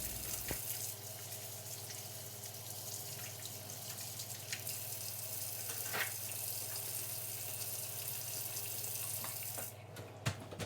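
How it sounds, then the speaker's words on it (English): A kitchen tap runs steadily while hands are washed with soap, a continuous hiss of flowing water with faint drips and splashes near the end, alone without talk. "we're just going to stop for a quick second and go wash our hands. Put a little soap in your hands."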